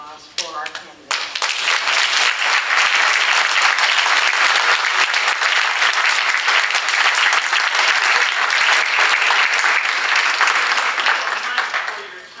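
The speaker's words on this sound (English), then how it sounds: "I'd like you to join me in extending a very, very warm round of applause for our candidates." After a brief spoken line, a large crowd at a mayoral candidates' forum breaks into loud, sustained applause that holds steady and strong, tapering slightly at the very end.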